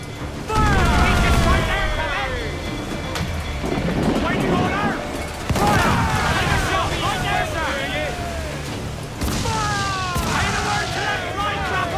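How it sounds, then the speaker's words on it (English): Ship mortars fire in the Assassin's Creed Black Flag video game, with deep booms going off over wind and sea noise while crew members shout and talk loudly. "Fire mortars, Captain!"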